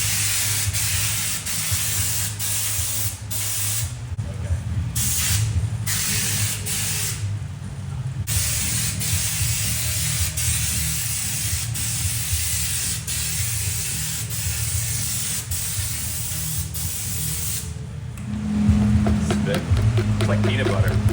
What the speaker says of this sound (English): Now getting our lizard skin sprayed on.